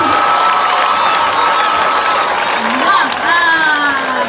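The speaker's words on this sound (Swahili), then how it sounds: "Atupigie makofi." A crowd claps steadily, with scattered cheers and high whoops rising over the applause.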